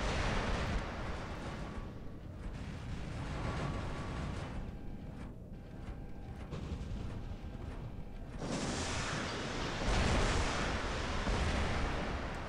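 Aphid missile weapon firing in the War Robots mech combat game, a dense, continuous barrage of booming launches and blasts rolling on without pause, growing louder and harsher toward the end.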